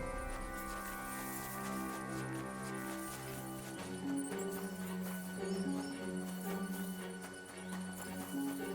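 Horse hooves clip-clopping in Kingdom Come: Deliverance II, steady rhythmic steps with an occasional whinny under background game music, no talk.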